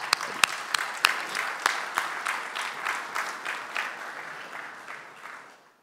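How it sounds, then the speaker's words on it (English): A round of applause at a media and entertainment conference inaugural ceremony, with dense, steady clapping from a large audience that slowly fades away over several seconds, with no talk over it. "a round of applause for everybody sitting on the dais."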